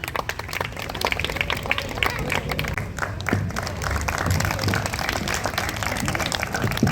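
An audience claps steadily at a school art exhibition, a dense, sustained patter of many hands, moderately near and continuous throughout.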